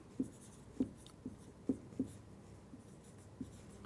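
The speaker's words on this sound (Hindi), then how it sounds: "इन सब को मैं यहाँ हिंदी में भी लिख देती हूँ।" Chalk or marker strokes on a classroom board tap and scrape in short separate bursts, about six distinct strokes with irregular gaps, fairly faint against a quiet room.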